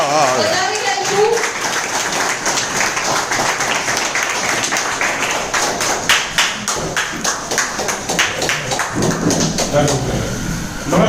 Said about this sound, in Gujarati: તાળીઓના ગડગડાટ સાથે આપણે